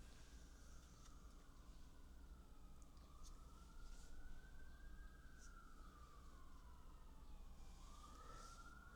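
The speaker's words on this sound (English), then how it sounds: "Maybe you can hear the sirens going in the background." A wailing siren rises and falls steadily, faint and distant, over a constant low rumble of background noise.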